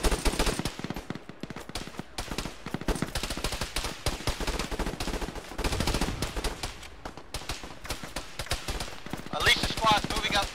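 Gunfire in the military shooter Arma fills the scene with dense bursts of automatic fire, overlapping rapid shots both near and distant, under intermittent radio-style chatter.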